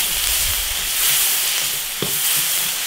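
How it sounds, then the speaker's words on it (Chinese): Sauce with soaked chili and aromatics stir-frying in an iron wok while river snails are being cooked, a steady broad sizzle with a sharper spatula scrape partway through, close and fairly loud, no talking. "酱料下锅炒香。"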